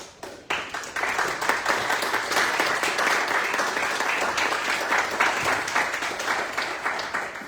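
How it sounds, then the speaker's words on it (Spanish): A seminar audience breaks into loud, sustained applause for the speaker being introduced: dense, steady clapping from many hands that starts abruptly and carries on evenly to the end. "les pido por ahí un fuerte aplauso"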